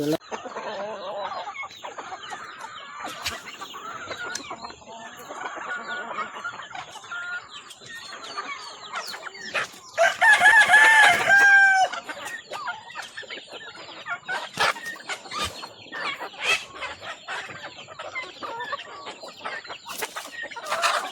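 Chickens and other fowl on a farm with turkeys cluck in scattered bursts nearby, and a rooster crows once loudly midway through, with short irregular clucks and rustling continuing on either side.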